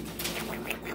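A caique parrot calls in a home bird room, producing a short run of bright, chirpy squawks close by over a steady background hum, with no talking.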